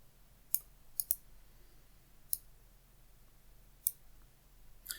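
Computer mouse clicks while modeling a signet ring in Rhino 3D software: six or so sharp, isolated clicks, some in quick pairs, spaced irregularly over a quiet low hum, with no talking.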